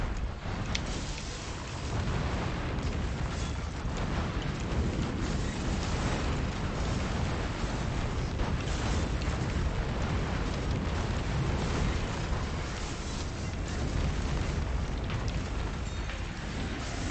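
Magma worms erupting in Risk of Rain 2, a dense, continuous rumbling roar with crackling bursts that stays loud and steady for the whole stretch, no voices over it.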